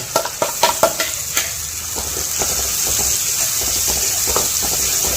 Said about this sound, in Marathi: आता याला चांगलं हलवून घेऊयात.